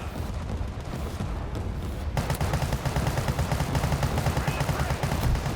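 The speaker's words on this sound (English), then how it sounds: "machine gun ain't good for long range" Gunfire from a modern first-person multiplayer shooter: muffled rapid bursts give way to a louder, dense stream of machine-gun fire that continues to the end, with faint background chatter.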